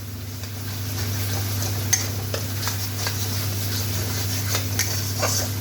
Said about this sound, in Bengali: এক চামচ আদা বাটা দিয়ে দিলাম।